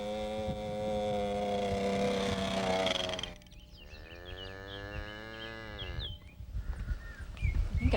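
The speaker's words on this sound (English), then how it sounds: "I think I hear a cow behind that hedge." A cow moos from behind a hedge on a small hill farm, giving one long, drawn-out call over a low rumble of background noise, with faint rustling at the end.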